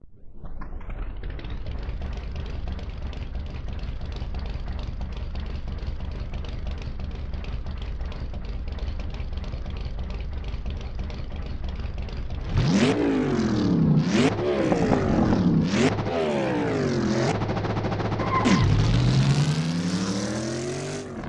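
A car engine in a racing video game, tuned for a more aggressive note, hums steadily at cruising speed, then revs hard in a series of sharp rising and falling sweeps with gear changes.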